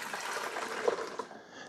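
Distilled white vinegar, a cup and a half, poured into the reservoir of a Farberware espresso maker with milk frother, a steady close trickling gush of liquid filling the tank.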